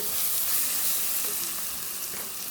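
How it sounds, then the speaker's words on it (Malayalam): Onions with a pinch of salt sautéing in a pan give a continuous, even sizzle and hiss, close and steady throughout with faint stirring underneath. "നമ്മുടെ സവാള ഉള്ളി എല്ലാം നല്ലതായിട്ട് വഴണ്ടിട്ടുണ്ട്"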